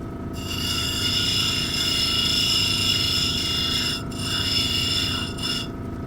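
Polishing a Petoskey stone sphere with a power tool, a steady close rasping whine with brief interruptions near the end.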